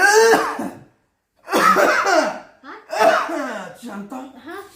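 Repeated coughing from an elderly man, three harsh throaty bursts separated by short pauses, loud and close, with some voiced, laugh-like breathing between fits.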